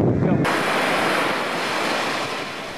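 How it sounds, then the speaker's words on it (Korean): Strong North Atlantic ocean waves about three metres high roar continuously, a loud, close surf wash with gusty wind noise across the microphone. "파도가 아주 굉장히 세서 올라가지 말겠구나"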